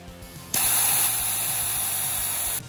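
A 3D printed rocket injector sprays fuel with airflow, producing a loud, steady hiss that starts abruptly and runs continuously alone, with a faint low mechanical hum beneath.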